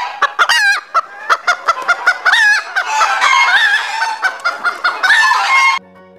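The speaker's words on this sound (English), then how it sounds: "H for hen." A hen clucks loudly and rapidly in a close, busy series of calls, with a rooster-like crow blended in, running continuously before cutting off.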